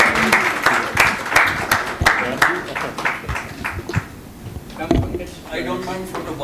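Audience applause for a panel at an industry-academia launch event, clapping in a brief burst that fades within a few seconds under ongoing talk and stage noise.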